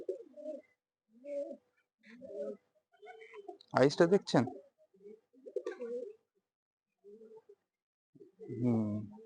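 Madrasi pigeons coo in short, soft bursts at close range, broken by brief pauses and a louder flutter-like burst midway, with someone talking quietly among them.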